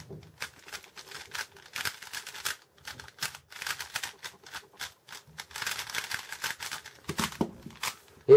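A WitTwo v2 speedcube, Type C, being turned rapidly during a quick solve, giving dense bursts of plastic clicking and clacking close up, with short pauses between flurries of moves and no talking.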